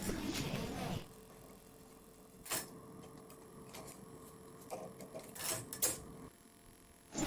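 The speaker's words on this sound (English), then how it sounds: "Run the machine head empty for 2 rows." A knitting machine carriage, an SK280, is run empty across the needle bed, giving bursts of clattering and ticking passes separated by quieter gaps, heard close and fairly faint.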